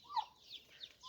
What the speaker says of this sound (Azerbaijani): 2 dana induk cücə var içində.